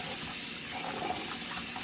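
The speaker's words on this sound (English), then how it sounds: "And you pour off the water after you rinse it a few times" Water poured off rinsed rice, a continuous close splashing pour running steadily without pause, fairly loud and alone.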